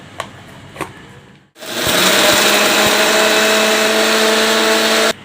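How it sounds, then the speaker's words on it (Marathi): A few clicks, a brief pause, then a mixer grinder grinding semolina starts with a loud steady whirring hum that runs for several seconds before cutting off. "मिक्सरच्या भांड्यात आपल्याला बारीक असे दळून घ्यायचे आहेत"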